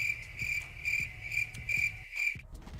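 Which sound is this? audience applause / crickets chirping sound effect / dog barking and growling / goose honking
crickets chirping sound effect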